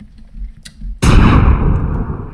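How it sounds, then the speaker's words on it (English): A single sharp gunshot signals a new follower during an Everquest Next Landmark stream, cracking loudly after quiet background and trailing off into a long, decaying boom. "I just heard a gunshot, so I know somebody just followed."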